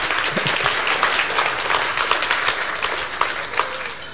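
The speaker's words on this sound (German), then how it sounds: "da hätte ich jetzt Beifall kommen können" Audience applause at a German Nudelmesse comedy event, steady sustained clapping from a crowd filling the whole stretch, fairly loud and close without speech over it.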